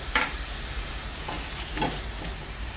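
Liver and gizzards sautéing in a hot pan, a soft steady sizzle with a few brief stirring scrapes, close and moderately loud, no voices.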